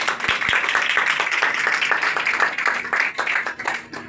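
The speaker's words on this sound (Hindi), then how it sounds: "तालियां बजाएं।" Audience clapping at an outdoor Christian mission gathering for flood relief in Rangpur, a dense, steady wash of many hands sustained for several seconds with a few sharper claps near the start.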